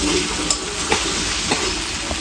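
Broiler chicken meat cooking in a pan, a loud steady sizzle with a few scraping stirs breaking through, heard up close without talk.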